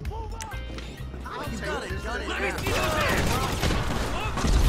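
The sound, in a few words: gunfire shooting at cops in the video game GTA V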